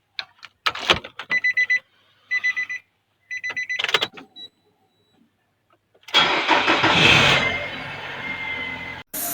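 A car engine running rough when revved because its oil is slow to circulate; a series of electronic beeps comes first, then a loud, dense engine roar rises and holds close by.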